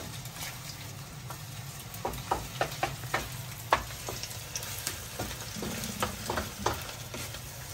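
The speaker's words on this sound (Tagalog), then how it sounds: "Ayan, scrambled egg ang kalalabasan." Eggs sizzle steadily in a hot pan as they are stirred into scrambled egg, with a series of sharp scraping clicks and spatters over a constant frying hiss, heard up close with no talk.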